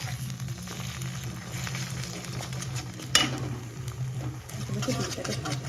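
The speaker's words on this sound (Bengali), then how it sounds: "ডিমটাকে ভাজবো" An egg sizzles in a hot pan in a home kitchen, a steady crackling hiss with a brief louder clatter partway through, over a low background hum.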